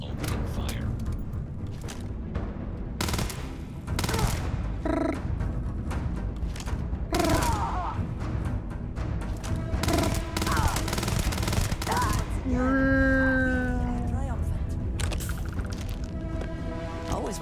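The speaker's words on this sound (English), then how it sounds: "I am opening fire." Gunfire in Starfield, heard as repeated sharp shots and rapid bursts that keep going for the whole stretch. Weapon reports overlap loud combat noise, and a tonal mechanical whine rises near the end.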